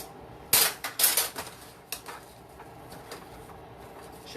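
A spoon stirring salt into pepper steak in a pan, a few quick metallic scrapes and clinks at the start and then quieter scraping under a soft background, close by with no voices.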